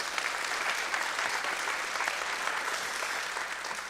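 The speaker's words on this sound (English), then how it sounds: "Let's give you all a round of applause" Sustained audience applause fills a gathering at an interfaith peacemakers blessing event, a steady wash of many hands clapping at moderate distance without clear breaks.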